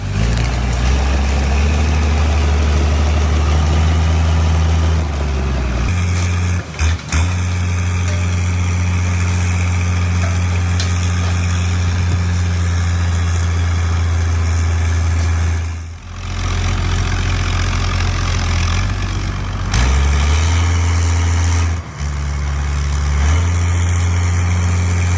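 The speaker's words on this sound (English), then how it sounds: "This machine is attached to the trunk of the walnut tree and applies gentle but firm vibrations." A tree shaker machine clamped to a walnut tree trunk runs loud and close with a deep, steady engine drone, dipping briefly a few times before the heavy rumble resumes.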